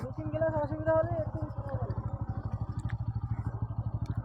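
A Yamaha R15 V4 or Bajaj Pulsar N160 motorcycle idles and pulls away with a steady low thumping engine pulse, a rhythmic throb that carries on under a voice speaking over it near the start.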